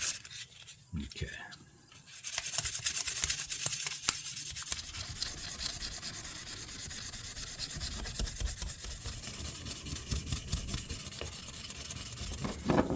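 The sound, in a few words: rubbing to polish a restored fishing slip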